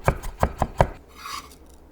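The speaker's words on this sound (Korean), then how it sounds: "통마늘 2개도 잘게 다져서 담고" A knife mincing two whole garlic cloves on a cutting board for a wild-shoot (dureup) side dish: four quick, close chopping taps in an uneven rhythm, then a softer scraping rustle as the blade trails off.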